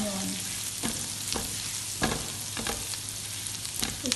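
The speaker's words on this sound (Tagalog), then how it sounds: "ipapride ko yung garlic at saka onion" Garlic and onion sizzle in a pan with a steady frying hiss, punctuated by repeated scraping stirs of a utensil, close and alone without talk.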